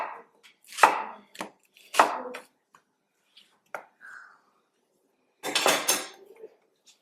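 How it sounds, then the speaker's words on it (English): Celery, carrots and a red onion are chopped on a cutting board, with a few loud, irregular knife strikes and short gaps of silence between them. "I'm going to chop some celery"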